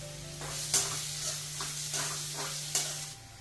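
Chopped onion dropped into hot oil and frying, a moderate steady sizzle broken by a few sharp stirring clacks, with a low hum underneath.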